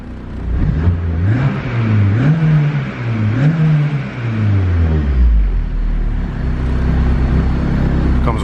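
A turbocharged K24 engine in an EP3 Honda Civic revs up and down in several loud, close pulls, then drops back to a low steady idle.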